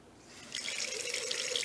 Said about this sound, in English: you turn the water on as hot as you can allow